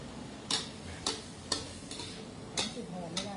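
Sharp metallic scrapes and taps strike a wok at irregular intervals over a steady low sizzle as pork with pickled bamboo shoots stir-fries, close by.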